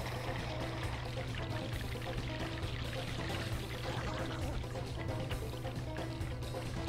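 Water sprays and gushes without a break in the Sly Cooper and the Thievius Raccoonus video game, a steady pouring rush under a low game hum, with no talking.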